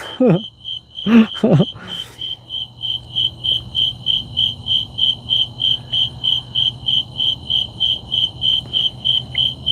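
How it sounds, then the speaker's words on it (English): Steady, rapid insect-like chirping pulses repeat throughout, with low croaking calls beneath and a few louder vocal bursts near the start. "I can definitely hear frogs though, Steven."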